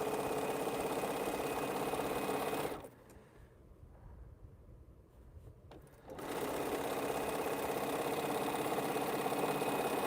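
Sewing machine stitching a quilt piece runs steadily and loud, pauses for about three seconds to a low hum, then resumes its continuous whir.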